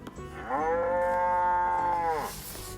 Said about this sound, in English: The cow mooed loudly, and the little calf bleated.